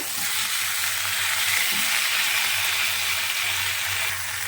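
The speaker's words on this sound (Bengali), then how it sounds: "তো বেগুনগুলো দিয়ে ভালো করে এভাবে মশলার সঙ্গে বেগুনগুলোকে মাখিয়ে নিতে হবে।" Eggplant pieces coated in spices fry in a pan for begun bahar, producing a dense, even sizzle that holds steady throughout at close range with no talking.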